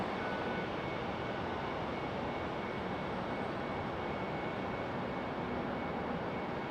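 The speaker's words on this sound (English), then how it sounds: "look at Republic Airways 4596 coming in from Music City, Tennessee, Nashville." A Republic Airways Embraer E-175 jet arriving at Raleigh-Durham International Airport: a faint, steady, distant roar with no talking.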